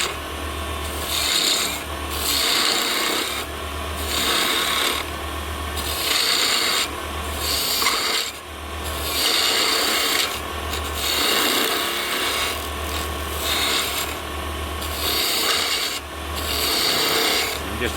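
A spindle gouge cuts a small wooden Christmas tree ornament spinning on a lathe, giving a steady, close, raspy scraping that rises and falls in rhythmic passes over the full length.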